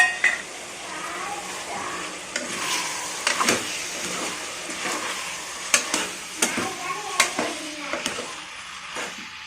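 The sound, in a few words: stirring and sautéing masala in a pan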